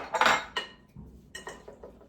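Chickpea salad being tossed in a bowl with a utensil, giving a few light clinks and scrapes in short, irregular bursts, close by and fairly quiet.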